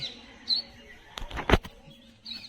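A few brief sparrow chirps over faint background noise, with a burst of fluttering wing flaps in the middle.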